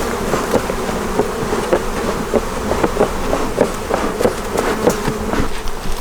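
Honey bees buzz loudly and steadily around an opened beehive, with frames and brood exposed. There are occasional clicks from handling the hive, and no talk.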